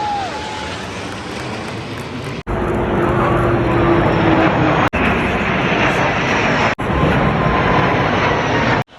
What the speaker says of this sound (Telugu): మొత్తం 4-5 ఫ్లైట్స్ వెళ్ళి ఫ్రాన్స్ ఫ్లాగ్ని స్కైలో గీసినాయి అనమాట